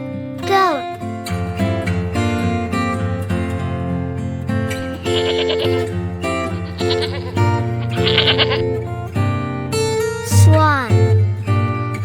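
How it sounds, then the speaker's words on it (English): A goat bleats several times over a steady musical background, each call clear and close, with short gaps between the cries. "goat"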